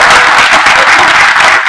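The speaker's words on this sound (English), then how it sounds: "Clap it up for him." A large audience at a bookstore conversation event breaks into loud, sustained applause, a thick, continuous roar of clapping from many hands with no talking over it.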